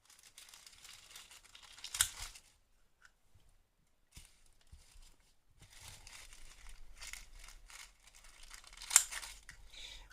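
Paper being punched and cut out to make homemade flowers, with soft crinkling snips and rustles coming in short bursts and two sharper clicks, close and quiet, separated by pauses.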